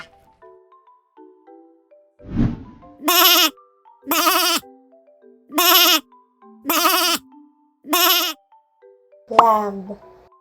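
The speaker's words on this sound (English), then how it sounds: "Lamb." A lamb bleats five times in a row, each call loud, wavering and evenly spaced, after a few light chiming notes and a thud, and ends in a final rougher cry.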